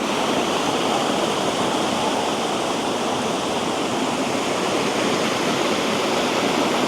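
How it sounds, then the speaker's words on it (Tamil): Steady rushing water of a mountain stream at Kurangani, Tamil Nadu, a continuous broadband flow like a small cascade, loud and close with no pauses or voices. "எவ்வளோ அருமையாக தண்ணி போகுதுன்னு."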